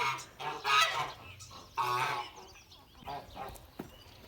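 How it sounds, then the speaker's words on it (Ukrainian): Several geese honk in loud bursts, close by in a shared goose and chicken barn, with short gaps between the calls and a few softer clucks toward the end. "Так, гуси наші йдуть і нам заважати."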